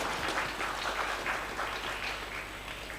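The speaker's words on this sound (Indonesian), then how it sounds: "Beri tepuk tangan kepada anak kita semua." At an Islamic boarding school event, an audience claps for a children's demonstration, a quiet, steady patter of many hands heard from a distance, with a faint hum underneath.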